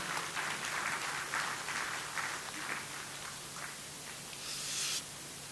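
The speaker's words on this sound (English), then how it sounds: "Be a big applause to you, sir." A business meeting audience of chambers of commerce delegates gives a quiet, distant round of applause to welcome a speaker, soft scattered clapping over a steady hum that tapers off near the end.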